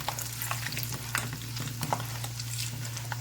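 Chana dal fries in hot oil in a pan, a soft continuous sizzle with light crackles and spatter over a low steady hum.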